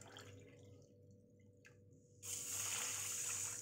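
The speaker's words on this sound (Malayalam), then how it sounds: "അര ഗ്ലാസ് പഞ്ചസാര എടുക്കുമ്പോൾ ഒരു ഗ്ലാസ് വെള്ളം ഒഴിച്ചു കൊടുക്കണം." Water is poured onto half a glass of sugar to make syrup for a wheat-flour milk cake. A quiet stretch comes first, then a sudden, steady rush of pouring water starts close by and keeps going.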